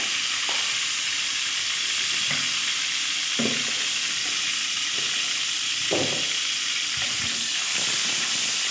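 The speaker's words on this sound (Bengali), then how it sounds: "কালো জিরেটা একটু ভাজা হয়ে গেলেই দিয়ে দেবো আলু।" Nigella seeds fry in hot oil in a pan, producing a constant close sizzle with occasional stirring clatters over the crackle.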